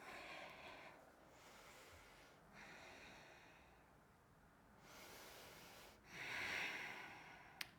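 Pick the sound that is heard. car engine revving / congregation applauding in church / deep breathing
deep breathing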